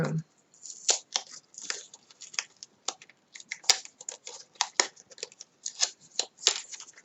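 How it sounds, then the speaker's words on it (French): Backing paper is peeled carefully off an adhesive sheet in a sequence of close, crisp ripping and crackling bursts with short pauses between them, and no voices. "on fait attention en enlevant son papier."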